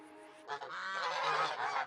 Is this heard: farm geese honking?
yes